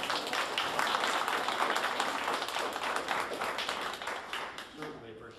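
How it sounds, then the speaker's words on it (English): An audience at a chamber of commerce meeting claps steadily in a dense, even wash of applause that fades slightly near the end as a voice begins. "so if we can give them a round of applause for that"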